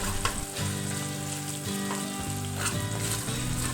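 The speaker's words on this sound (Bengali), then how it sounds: "এতে অ্যাড করে দেবো অল্প পরিমাণ আদা বাটা, এটাকেও আমরা হালকা করে ভেজে নেব" Ginger paste with asafoetida sizzling steadily in a pan, a dense, continuous close fry with faint stirring scrapes and no voices.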